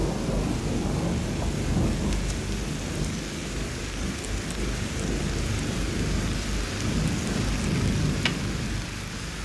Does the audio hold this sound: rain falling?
yes